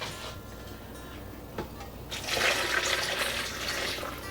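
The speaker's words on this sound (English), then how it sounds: "We'll put a little bit of the liquid." Liquid is poured into a container over quartered onion and a large garlic clove, giving a soft, steady splashing gush that grows louder halfway through, with no talk.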